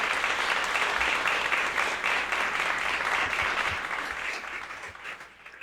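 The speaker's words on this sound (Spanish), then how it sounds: "Yo te voy a pedir esta mañana que le des un aplauso al Señor fuerte" Church audience giving sustained applause during a Spanish-language sermon, dense steady clapping from a large crowd that holds strong and then gradually thins and fades toward the end.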